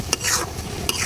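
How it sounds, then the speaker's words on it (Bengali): Spices fried together with onion paste in a pan, a dense close sizzle with two quick scrapes of a spoon stirring through the mix. "সবগুলো মশলা দিয়ে একসাথে আমি কষিয়ে নিব ভালোভাবে"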